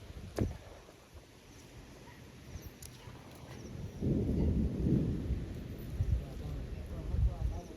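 A night thunderstorm with windstorm and rain, where a low thunder rumble swells and rolls for several seconds over steady rain and wind noise, with voices faintly in the background.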